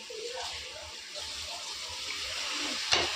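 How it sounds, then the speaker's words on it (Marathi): Water is sprinkled over a dry cooking dish in a pan, giving a soft hiss and sizzle with brief splashes and a sharp clink near the end. "थोडंसं पाण्याचा हबका मारून"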